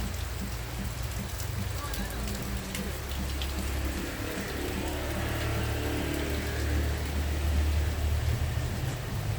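Steady rain pours down in a dense, even hiss, with a low rumble of an engine running underneath throughout.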